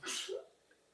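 A single sneeze bursts out close and fairly loud near the start, a sharp airy blast followed by a brief voiced tail, then quiet room tone.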